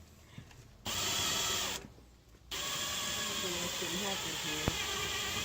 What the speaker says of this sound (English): if you've never drilled into a trailer, it sucks and it takes forever